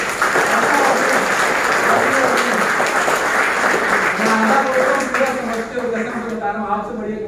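An audience claps for a motivational speaker at a talk on wealth and success, a loud continuous patter of many hands, with voices talking over it that grow more prominent toward the end.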